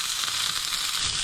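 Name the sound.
pork chop browning and sizzling in a pan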